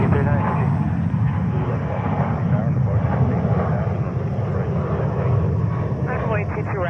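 A jet airliner at JFK roaring steadily on runway 22 right during takeoff, with a loud continuous engine rumble and radio voices talking over it.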